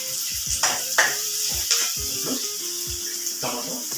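Finely chopped ginger and garlic fry in a pan, a soft continuous sizzle broken by repeated scraping stirs and clinks of a spoon against the pan, close and steady.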